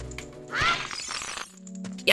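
A brief crackling shatter as a larva egg breaks in The Legend of Zelda: Ocarina of Time randomizer, with game tones around it and a thump near the end.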